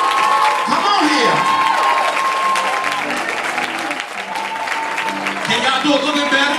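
A church audience applauds at a Men Of Promise event, dense sustained clapping with scattered cheers and whoops, loud and close, with voices calling out over it throughout.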